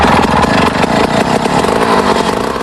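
A gas-powered ice auger drills into a frozen Minnesota lake at dawn, its small engine running loud and steady with a rough, buzzing drone throughout, no voices.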